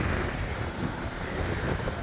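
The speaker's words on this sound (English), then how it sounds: "Man, that wind." Gusty wind buffets the microphone on a downtown Montreal street, a steady loud low-frequency roar with no talk.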